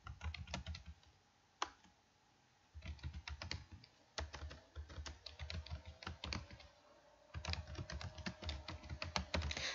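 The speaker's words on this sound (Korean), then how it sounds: "키보드로 눌러서 내용을 입력해 주시면 되겠습니다." Rapid, uneven clatter of keys on a computer keyboard being typed on while entering text into a PowerPoint shape, with steady close-up clicks, brief pauses and no talking.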